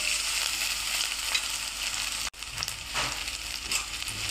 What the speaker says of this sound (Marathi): तर आता छान आपला कांदा परतला आहे